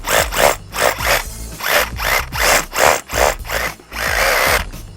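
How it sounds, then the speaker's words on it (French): A power drill bores a hole into a structural surface for a resin anchor fixing a timber framing hanger, running in repeated bursts that rise and fall in pitch as the bit is pushed and eased, close and loud with no speech. "On perce donc le troisième trou."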